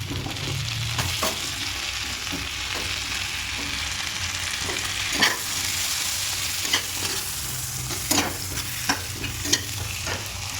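Onions and capsicum fry in a pan with a continuous close sizzle, punctuated by sharp clicks and taps of a spatula stirring every second or two.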